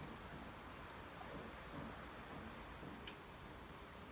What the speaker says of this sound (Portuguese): Só chuva.